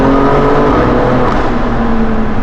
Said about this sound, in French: C'est l'échappement, ça